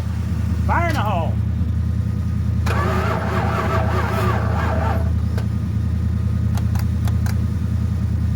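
A 1978 Dodge D-200 pickup being re-powered cranks briefly, then catches and fires into a steady rumbling idle, with a voice audible over the engine noise.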